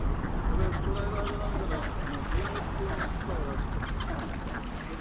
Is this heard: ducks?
yes